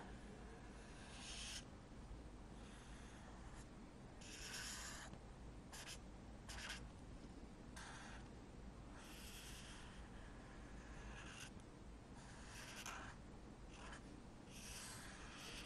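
A hand scratches out a diagram of a plant ovary on paper, with short repeated strokes close by and no voices.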